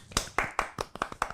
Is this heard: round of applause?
yes